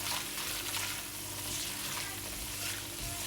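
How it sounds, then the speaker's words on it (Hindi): Whole red chillies fry in a tempering of oil in a pan for kadhi pakora, with a steady, loud hiss and sizzle that runs without a break under occasional stirring. "आपने अच्छी तरीके से अपने तड़के को तकरीबन 4 से 5 मिनट भून लेना है।"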